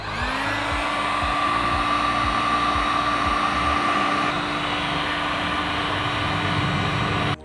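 A heat gun blows a steady, loud roaring hiss while shrinking a Postsaver Pro Sleeve onto a post, continuous for several seconds before cutting off abruptly.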